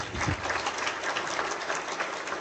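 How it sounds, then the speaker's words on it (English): Sustained audience applause at a college induction program at DY Patil Technical Campus in Varale-Talegaon, Pune: a dense, steady wash of many hands clapping throughout, fairly loud and unbroken. "Please give a big round of applause for yourselves."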